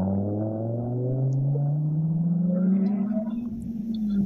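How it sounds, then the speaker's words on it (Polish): An Audi 90 rally car at a rally stage approaches with its engine roaring, pitch rising steadily as it climbs through the revs, loud and droning, with no talk over it. "Już słyszę, że w naszym kierunku się zbliża Tomek Żbikowski w Audi"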